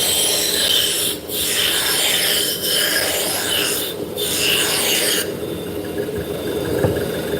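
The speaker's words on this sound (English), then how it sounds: "Spindle turning is fun." Wood spins against a cutting tool on a lathe during spindle turning, producing a loud, continuous broadband rasping with brief dips. The tone shifts partway through as the cut changes.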